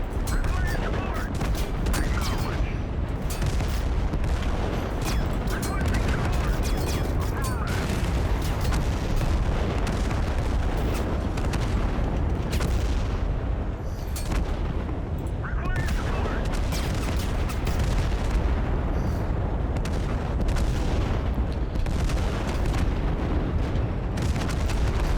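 Heavy, continuous gunfire and booming blasts from the shooter game Total Conflict: Resistance, a dense unbroken barrage that runs loud throughout with no clear pauses.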